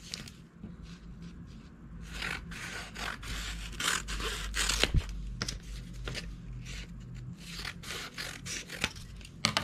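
Scissors snip around the excess of a colouring Christmas card, giving a close run of quick paper cuts and scrapes with uneven rhythm.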